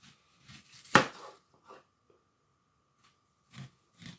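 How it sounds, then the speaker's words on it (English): Knife slicing onions into thin rings on a cutting board, close sharp chops at irregular intervals, one louder hit, in an otherwise quiet kitchen with no talking. "We're also going to cut our onions into thin slices"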